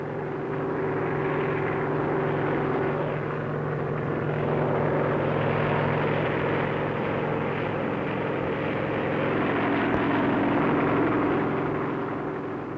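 A 1960s Westland Scout helicopter hovers during a winch rescue, its engine and rotor producing a steady, loud, droning whine with a constant hum that holds evenly throughout, with no speech.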